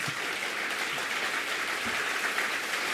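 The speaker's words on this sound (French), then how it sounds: "on l'applaudit là" Applause from an audience at a live French show, a steady wash of clapping that holds evenly for about three seconds with no voices above it.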